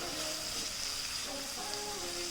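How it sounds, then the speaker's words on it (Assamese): Spices fry in a pan with a soft, even sizzle. The hiss stays quiet and continuous throughout. "মছলাখিনিৰ কেঁচা কেঁচা গোন্ধ যোৱালৈকে এইদৰে 2 মিনিট ভাজিম"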